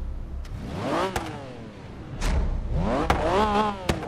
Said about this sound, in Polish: I silnik.